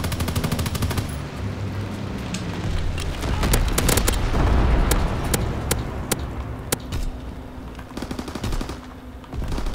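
Incendiary bomber airstrike in Call of Duty Modern Warfare 2 Remastered: loud, continuous rumbling explosions and rapid cracking gunfire fill the whole stretch, with sharp repeated blasts toward the end.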